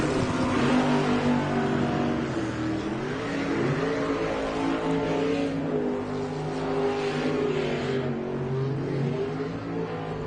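A V8 superboat engine held at high revs during a championship race, a loud continuous throaty roar with strong harmonic whine that dips and climbs slightly in pitch, close and unbroken, with no talking.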